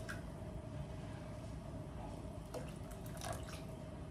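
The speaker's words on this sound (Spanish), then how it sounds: "Ahora que ya esté hirviendo, le agregamos otra poca más de agua." Water is poured into boiling tomato sauce in a home kitchen, a faint steady trickle with light drips and splashes heard alone under low background hiss.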